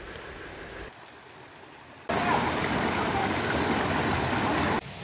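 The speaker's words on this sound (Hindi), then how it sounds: "हम फाइनली वाटरफॉल तक पहुंच गए।" Rushing stream and waterfall on a trek in Nepal, a steady broadband roar that starts softer, then jumps to a loud, close, continuous wash of water.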